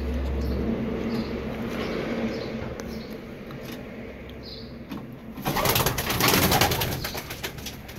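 Pigeons coo softly in the background amid rustling, followed by a burst of louder fluttering and scuffling near the end as they are released.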